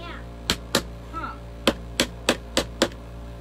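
A handheld stapler drives staples into a homemade flamingo wreath, giving sharp, close, loud snaps, first two quick ones, then a soft rustle, then a run of five or six more at a fairly even pace.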